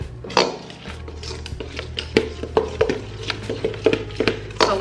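Egg pie filling mixed in a bowl, a run of quick clinks and taps of a utensil against the dish in an uneven rhythm, close and clear over a low background hum, with no speech.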